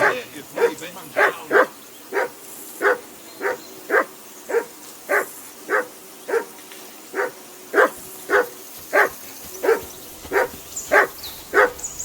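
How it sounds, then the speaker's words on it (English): A dog barks over and over in the medieval role-playing game Kingdom Come: Deliverance II, about twenty sharp, evenly spaced barks at close range, steady and fairly loud across the whole stretch. "Whistle at that mutt of yours to stop barking!"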